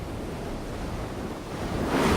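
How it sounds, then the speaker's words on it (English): Ocean waves surge into a basalt tunnel at a blowhole on the Tahiti coast, giving a continuous roaring wash with wind noise that swells louder toward the end as water bursts out. "The waves rush with great force into the basalt tunnel, creating a powerful burst of water on their way out."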